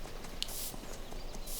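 Horse hooves clip-clopping in Farming Simulator 25, a few soft hoof steps over a steady game ambience, faint and close, with no talk.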